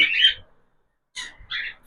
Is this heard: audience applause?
no